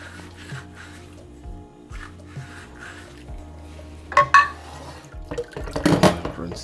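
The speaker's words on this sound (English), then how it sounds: "we'll use a last level of rinse with some soap" Water runs and drips while a Breville Cafe Roma espresso machine portafilter is rinsed with soap at a sink, with a hum underneath and louder splashing and clattering near the end.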